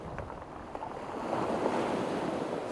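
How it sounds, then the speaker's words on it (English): Strong, gusting wind on the coast roars as broadband rushing noise, swelling louder after the first second and staying steady, with surf-like wash beneath and no talk. "That wind is absolutely Baltic."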